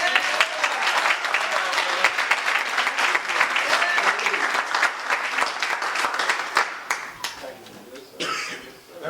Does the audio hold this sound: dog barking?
no